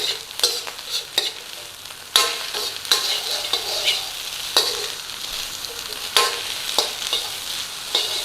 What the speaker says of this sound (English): See if we can get a little bit of charring on that rice.